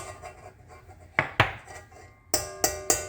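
Half a cup of sourdough starter mix being scooped from a container: a few sharp clinks and knocks of a utensil against the vessel, two near the middle and three quick taps at the end, close and fairly quiet.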